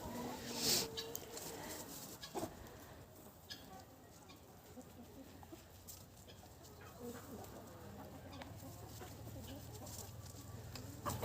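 Backyard chickens and a rooster cluck softly at a distance, with a few sharper calls and bird chatter over a low farmyard hum, while someone talks quietly nearby.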